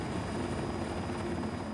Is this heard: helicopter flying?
yes